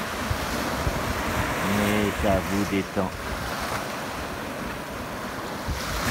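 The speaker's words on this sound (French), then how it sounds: "Vous regardiez à l'horizon le clapotis de ces vagues" Sea waves lap at the shore in a steady, rushing wash with some wind buffeting the microphone, while someone speaks softly over the surf partway through.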